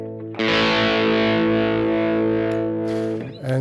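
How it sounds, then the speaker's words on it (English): An electric guitar with a crunch tone, midway between clean and distorted, strikes a single sustained chord that rings loud and steady before a quick scrape at the end. "Crunch guitar is a medium setting between clean and"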